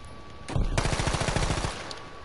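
Rapid automatic bursts from an M2 Carbine in the Battlefield 5 video game, a loud close stream of gunfire lasting about a second with a sharp onset and brief tail, no talk over it.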